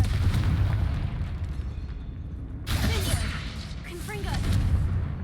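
Confringo blasting spell explosions in the video game Hogwarts Legacy: two loud, sudden bursts with crackling, sparkling tails, set against continuous game ambience and a low rumble.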